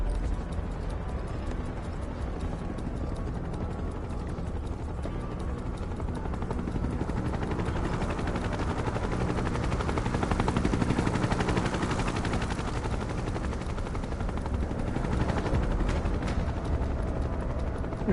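In the Final Fantasy VII Rebirth video game, a helicopter's rotor chops loud and continuous, mixed with dense gunfire rattle that swells toward the middle and stays steady to the end.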